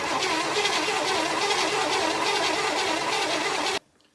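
A 1964 Chevy Impala engine, rescued after being abandoned, is cranked over without firing: a steady, rhythmic churning drone that runs loud and close, then cuts off abruptly near the end.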